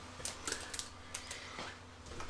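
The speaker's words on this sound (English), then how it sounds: "It is kind of a satisfying clicking sound to it." Light plastic clicks sound irregularly, several small sharp snaps in quick succession, close and fairly quiet.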